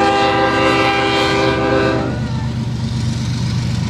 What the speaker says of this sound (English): That's quite a freight train.